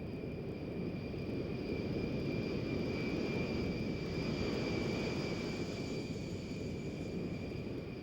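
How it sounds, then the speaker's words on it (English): A C-141 transport plane approaches an airstrip at Wright-Patterson Air Force Base in Dayton, Ohio, giving a steady, fairly faint jet roar with a high whine held throughout, and no voices. "This C-141 transport plane is approaching the same airstrip on which the C-124 landed with the Soviet Yak 43 years ago."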